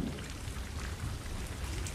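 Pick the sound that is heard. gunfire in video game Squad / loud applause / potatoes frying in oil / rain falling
rain falling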